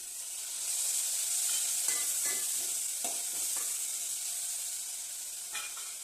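Tomatoes dropped into a boiling pan for a spicy pasta dish, a soft steady sizzle with a few brief stirring scrapes, close and fairly quiet, no talk.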